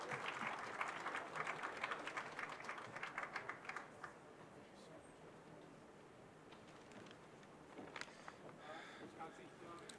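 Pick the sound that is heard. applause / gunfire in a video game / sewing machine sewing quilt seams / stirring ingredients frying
applause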